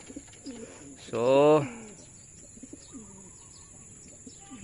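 Pigeons coo close by, one loud rolling coo rising over quieter soft calls, with a brief spoken word at the start.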